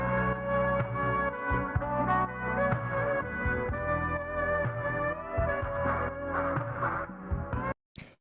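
Lo-fi house sample loop played alone, a warm, muffled layered chordal texture with low thumping pulses and a hazy sustained hum, moderately quiet, ending in a brief cut near the close.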